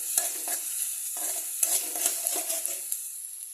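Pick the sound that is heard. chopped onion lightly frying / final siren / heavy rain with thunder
chopped onion lightly frying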